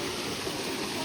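A steady, dense rush of water falling from above at Leicester City Hall, continuous and even for the whole second with no other sounds standing out.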